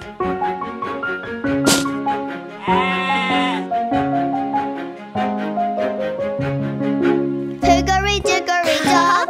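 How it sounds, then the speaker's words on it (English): Sheep bleats repeated over a bright children's nursery-rhyme song, several wavering calls standing out against the melody and music throughout. "sheep."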